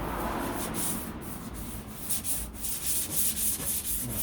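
Steady scratchy rubbing of 800-grit sandpaper across a smooth hard body panel of a 1969 Corvette, strokes coming in a loose back-and-forth rhythm, close and fairly quiet.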